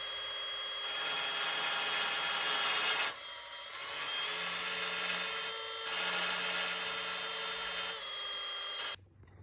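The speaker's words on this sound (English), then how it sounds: "Those little Milwaukee finger sanders, these things work really good." A Milwaukee finger sander grinds paint off metal on a Civic to make a fresh ground. It gives a loud, close, steady abrasive whine in long runs, broken by short pauses, with no talking.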